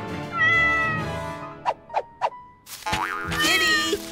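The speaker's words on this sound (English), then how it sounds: "Sounds like a cat needs help." A kitten stuck up a tree in a children's cartoon meows in three short, clear calls, framed by bright musical tones and a springy boing.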